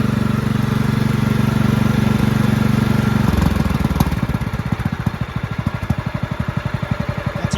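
A Craftsman LT1000 lawn tractor engine idles loudly up close after carburetor adjustment, a steady low rumble that shifts into a slower, uneven chugging pulse partway through, with no voices.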